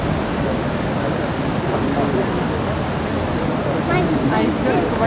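The Bellagio dancing fountain in Las Vegas at night, a steady, dense rush of spraying and falling water that fills the scene evenly throughout.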